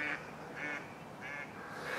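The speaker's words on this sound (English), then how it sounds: "Some ducks." Ducks quack faintly in the distance, four evenly spaced nasal calls repeating at a regular rhythm over quiet background noise.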